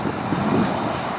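Strong, gusty wind on a wet November evening in Saint Petersburg, buffeting the microphone as a continuous low roar with no voices.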